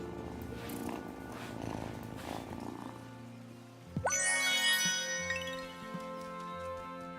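A cat purrs in the farming video game Wylde Flowers as a soft, steady rumbling texture for a few seconds, then bright chiming game tones ring out and linger.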